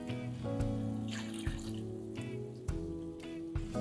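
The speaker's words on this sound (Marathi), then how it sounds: "पाणी मिक्स करूया." Water poured into a mixer grinder jar over ground spice paste, a steady soft trickle and splash with a few louder clunks of the jar, close and fairly quiet.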